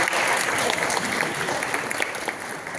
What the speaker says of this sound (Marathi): जोरदार टाळ्या वाजवून आपण स्वागत करूया